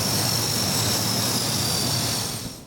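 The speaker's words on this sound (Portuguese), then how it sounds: "o primeiro avião da Força Aérea Brasileira tocou o solo em Chapecó." A Brazilian Air Force airplane lands at Chapecó, its loud, steady engine roar filling the air with a high whine on top before it begins to fade at the end.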